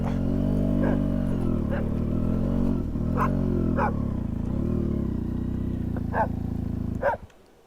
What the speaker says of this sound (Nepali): कुकुर भुक्या त